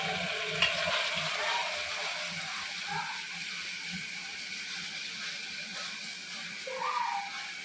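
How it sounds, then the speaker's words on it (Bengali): Spice paste with sour yogurt is stirred in a hot pan, making a steady, moderate hiss and sizzle with soft, occasional stirring scrapes close by. "টক দইটা আবার মশলার মধ্যে দিয়ে দিলাম, দিয়ে একটু আবার নাড়াচাড়া করে নেব।"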